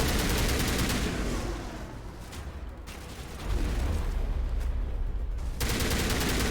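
Assault rifle fire in Mass Effect 1 Legendary Edition, dense rapid automatic bursts, loud and close, easing briefly in the middle before resuming at full intensity.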